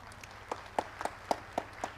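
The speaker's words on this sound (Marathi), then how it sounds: "टाळ्या वाजवा ना." About six slow, evenly spaced handclaps from an audience at a mind-power training session. They are fairly faint and sparse, with quiet room noise between them.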